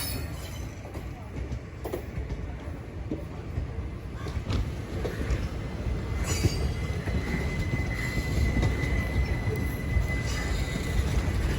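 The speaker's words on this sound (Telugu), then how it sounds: "తిరుపతి కాకినాడ బండి. లెజెండరీ బండి ఇది కూడా. వ్యాప్ 4 లోకోమోటివ్," Tirupati–Kakinada train hauled by a WAP-4 electric locomotive passing at a crossing, a long continuous rumble of rolling wheels with a thin, sustained metallic squeal rising over it, steady and close.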